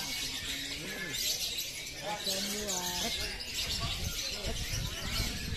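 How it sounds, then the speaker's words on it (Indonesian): A caged lovebird chirps and trills in short, varied phrases at a bird-singing training session, moderately near but not loud, mixed with background voices and crowd noise. "Oh, gacor benar itu burung."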